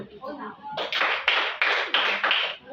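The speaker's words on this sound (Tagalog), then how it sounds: "bigyan natin ng 5 palakpak ang pangkat una" A classroom of children gives six sharp, evenly spaced group claps in quick rhythm, close and clear after a brief murmur of voices.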